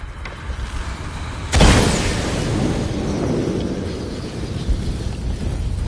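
A sharp, loud blast goes off in Shadow of the Tomb Raider to lift a platform, a sudden crack that rolls into a long thunderous rumble and slowly fades over a continuous rushing background.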